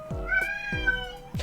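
A cat meows several times in a row, close and clear, with long drawn-out tonal cries in a quiet room and no talking over it.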